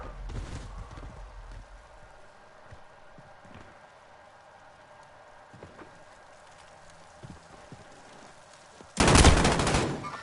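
Gunfire in a 2v2 video game gunfight: scattered faint shots and clicks over a quiet backdrop, then a sudden loud burst of rapid fire near the end.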